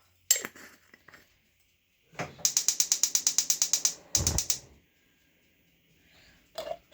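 Pink Himalayan salt is ground in a kitchen while dinner boils, giving several bursts of rapid, dry clicking ratchet strokes, close and crisp, separated by quiet pauses.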